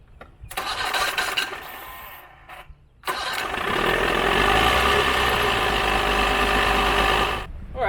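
A 1982 Mercury 40HP outboard motor cranks briefly, pauses, then fires up and settles into a steady, loud, close idle for several seconds, with no speech.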